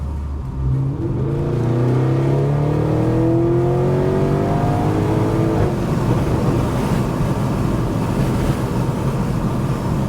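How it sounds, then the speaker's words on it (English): A deep Audi RS7 twin-turbo V8 rumbles and revs through a newly installed downpipe exhaust, pitch climbing in several rising sweeps, over steady wind buffeting the microphone outdoors. "Now it sounds like it's supposed to. All the exhaust is installed."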